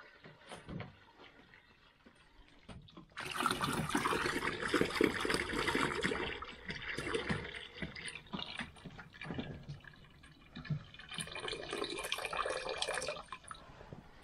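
Water gushes steadily from a tap for several seconds, loud and close, with quieter trickling before and after the main flow; hot water filling a container.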